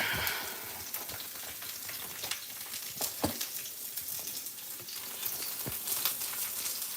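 Carrots frying in a pan give a steady sizzle broken by scattered crackles and a few sharper pops and stirs, moderately loud with no talking.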